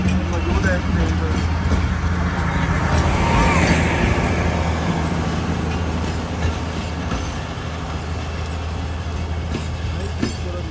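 Thall Express passenger train, an overloaded three-coach service between Rawalpindi and Attock, runs on the rails with a steady, continuous rumble and rolling wheel noise throughout, fairly loud and close, with no talking.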